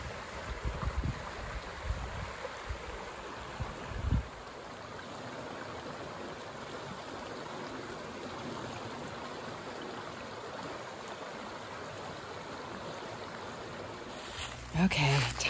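Continuous soft rush of a small stream flowing, steady and moderately close, with a few bumps and handling noises at the start and end, on a hike in Lyme, Connecticut.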